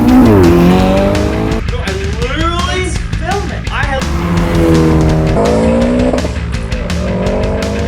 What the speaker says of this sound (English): rally car! Oh my god! Hello! I can hear him now!